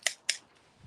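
Kitchen scissors handled near a Ford Bronco on a tailgate give two quick, crisp metallic clicks close together, followed by a faint low rustle.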